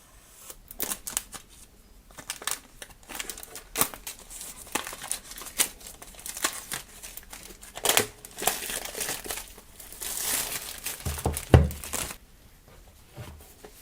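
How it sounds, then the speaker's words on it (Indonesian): Poco X3 NFC phone box being unboxed, close crinkling and rustling of packaging with scattered sharp crackles and handling taps, a denser tearing rustle near the end. "langsung aja kita unboxing"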